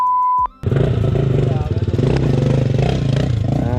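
Motorcycle engine roaring close by, loud and continuous with rising revs after a brief tone at the start, with people talking over it.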